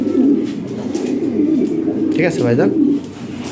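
European Lahore Shirazi pigeons coo in low, rolling bursts, close by, while someone talks over them.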